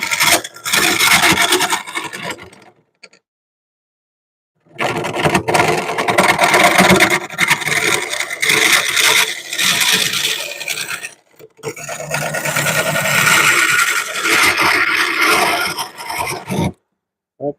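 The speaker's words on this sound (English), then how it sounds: "I think I might use a scraper on this part." A scraper rasps against a spinning burl wood bowl on a lathe, in loud harsh bursts of rough scraping broken by short pauses where the tool lifts away.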